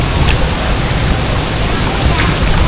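Water rushes at Hogenakkal waterfall as a loud, steady broadband roar that fills the whole stretch, close and unbroken, with no clear speech above it.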